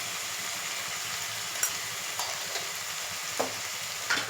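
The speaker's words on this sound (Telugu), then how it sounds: "ఫ్రై అయిపోతుంది." Puffed rice uggani base frying in a pan with turmeric and salt just added, giving a steady, moderately loud sizzle with a few sharp clicks of stirring scattered through it.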